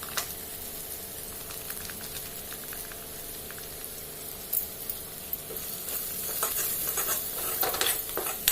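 Spices frying in oil for a vegetable dish, with garam masala and red chili powder, a soft continuous sizzle and occasional scraping stirs, growing slightly busier toward the end.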